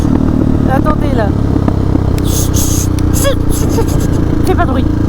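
A motorcycle riding at about 50 km/h at low revs, a loud, steady engine rumble with a constant drone, heard close up under someone talking.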